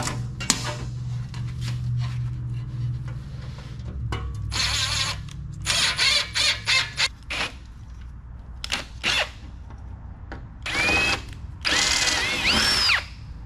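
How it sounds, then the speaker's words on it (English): Power drill driving screws into aluminum angle on a C-Dory TomCat boat berth, heard as a steady low motor hum followed by a series of short, loud, whining bursts close by, with no talking. "I'm going to screw this angle in place first so I can get the rivets lined up."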